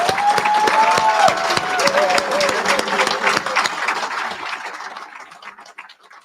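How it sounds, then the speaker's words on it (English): Applause from an audience at a graduation ceremony for a prisoner reentry program, with dense clapping and some crowd noise that slowly thins and fades out, partly under a few voices. "Please give yourselves and give them a round of applause."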